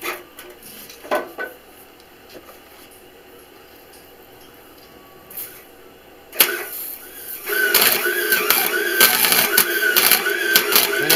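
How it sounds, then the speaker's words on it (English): Bolts and nails being welded onto a steel horse panel: after quiet handling noises, a loud, sputtering, uneven arc crackle starts partway through and keeps up to the end, with no talking. "We're welding the bolt to the pan, and we're welding the nail to the horse panel"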